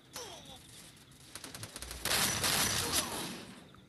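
A rapid burst of gunfire in the video game Free Fire, a fast volley of shots with a brief pause, then a louder sustained stretch of firing.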